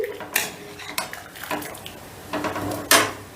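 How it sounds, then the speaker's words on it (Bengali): A spoon stirs masoor lentil dal with salt and turmeric in a metal pot, giving a few sharp clinks and scrapes against the pot over a quiet wet background. "এবারে হলুদ আর নুনটা ডালের সাথে একটু ভালো করে মিশিয়ে নিচ্ছি"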